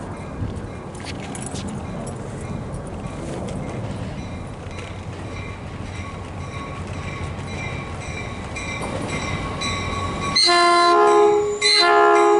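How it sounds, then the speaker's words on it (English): A train at Santa Clara station rumbles past with a steady rolling roar and metallic rattling, close and loud, then a sharp blast of its horn near the end. "Getting on this train."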